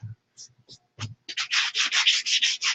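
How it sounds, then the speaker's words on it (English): Rhythmic sanding strokes rasp against a chalk-painted glass mason jar, starting with a few short scrapes and taps, then settling into a steady back-and-forth rubbing. "So I'm sanding the chalk painted mason jar to kind of highlight the logo."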